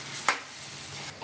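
Chicken frying in a pan with spices for a Telangana-style spicy chicken fry gives a steady soft sizzle, with a brief clatter of stirring near the start.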